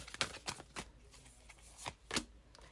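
Tarot cards being shuffled in several quick riffling bursts, close and fairly quiet, with short pauses between.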